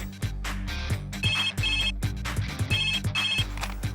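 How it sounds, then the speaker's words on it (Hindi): A phone ringtone plays loud and close, a catchy melodic loop with bright repeated beeping notes over a steady beat. "कबीर फोन उठा"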